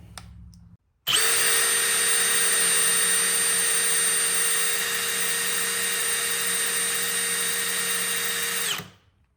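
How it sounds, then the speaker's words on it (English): An electric drill whirs at a steady high pitch for several seconds, starting abruptly and winding down at the end, loud and close. "First, we're going to try it on this drill."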